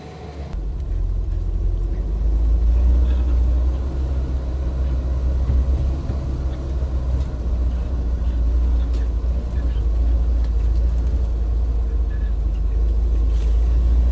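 A car engine, warmed up after a cold start, drives uphill out of a wooded area, making a steady loud low rumble and road noise that continues without a break for the whole stretch.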